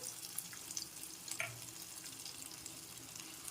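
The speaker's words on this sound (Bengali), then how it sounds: "আদার পেস্টটা দিয়ে একটু সামান্য জল মিশিয়ে মশলাটাকে নেড়ে চেড়ে নিতে হবে" Ginger paste and a little water stirred into a spice mixture in a pan for stuffed aloo dum, giving a faint, steady sizzle with soft scraping strokes, heard alone without speech.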